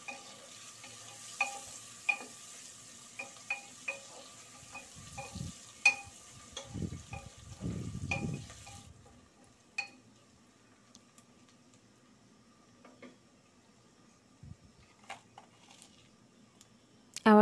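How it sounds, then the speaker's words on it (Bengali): Chopped onion frying and being stirred in a pot for beef curry: a soft sizzle with scattered utensil scrapes and taps, a denser burst of stirring midway, then quieter sizzling, close and with no talk. "পেঁয়াজটা নেড়ে ছেড়ে হালকা করে একটু ভেজে নেব।"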